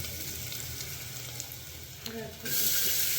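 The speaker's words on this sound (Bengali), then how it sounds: "হালকা হালকা ভাজা হয়ে গেছে।" Spices frying in a pan for mutton soup, a close, steady sizzle that swells louder and brighter in the final second.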